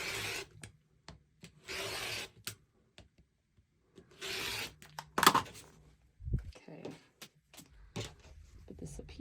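Rotary cutter slicing quilt background fabric into 2.5-inch strips, a series of brief scraping cuts and fabric rustles, some loud and close, with short spells of talking in between.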